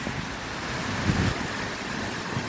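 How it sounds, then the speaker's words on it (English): Strong storm wind in Charters Towers roars as a steady broadband rush, with a louder gust swelling near the middle and buffeting against the microphone throughout. "The wind is crazy."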